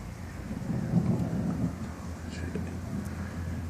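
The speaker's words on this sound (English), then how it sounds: "You can hear some thunder." Thunder rumbling outdoors during a storm, a low rolling roar swelling around the middle under steady rain and wind noise, with no talk.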